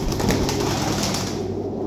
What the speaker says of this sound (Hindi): बड़ा कमाल का गोल्डन कबूतर है